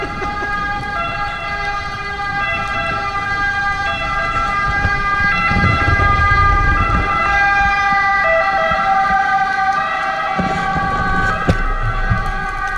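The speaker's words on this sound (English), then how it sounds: "And we got an emergency vehicle coming." An emergency vehicle siren wails loudly and steadily in a snowy street, with strong repeating tones over a low engine and traffic rumble as it passes close by.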